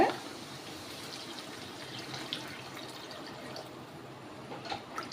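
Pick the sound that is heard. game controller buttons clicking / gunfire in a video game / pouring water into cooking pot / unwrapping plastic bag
pouring water into cooking pot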